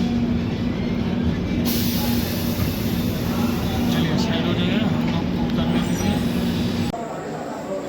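Dhanbad–Kolhapur Dikshabhumi Express pulling into Parli Vaijnath station at night, heard from on board: a continuous loud rumble with a steady low hum, ending in a quieter stretch as it slows.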